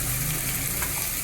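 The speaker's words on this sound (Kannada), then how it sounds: "ಈಗ ಸ್ವಲ್ಪ ಫ್ರೈ ಮಾಡೋಣ ಚೆನ್ನಾಗಿ." Vegetables frying for veg pulao in a pan, a steady close sizzle with a broad hiss that holds evenly throughout, a faint stirring scrape mixed in.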